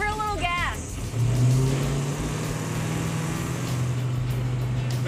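A hot rod's engine revs up and climbs in pitch as it accelerates, a steady loud drone held under a speaking voice.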